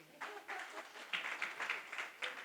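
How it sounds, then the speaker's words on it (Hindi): Faint, scattered bursts of audience clapping ripple through a Hindi comic poetry gathering (hasya kavi sammelan), a few uneven rounds of hand claps heard from a distance over a short stretch. "यहां भी तालियां बजती हैं।"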